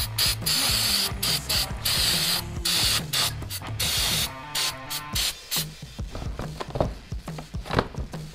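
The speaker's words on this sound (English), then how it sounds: "and then mask off where we don't want paint to be, and then spray paint it." Spray paint hisses in short repeated bursts onto masked-off motorcycle carburetors for a bobber build, close and loud, with brief pauses and rattles between blasts and no talking.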